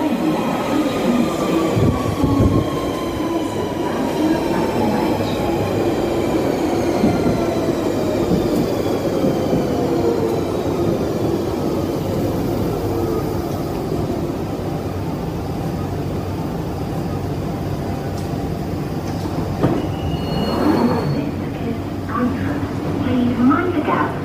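A London Underground Central line train rumbles steadily, wheels squealing and whining as it moves through the station, with a loud jolt near the end.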